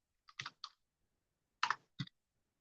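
Keys on a computer keyboard tapped while entering a forecast into an Excel spreadsheet: a quick burst of three clicks, a pause of about a second, then two more crisp keystrokes, close and clear with no talk.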